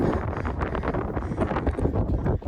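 Wind blows across the summit of Mullayanagiri mountain, a continuous rough buffeting roar close on the microphone with uneven gusts throughout and no voices.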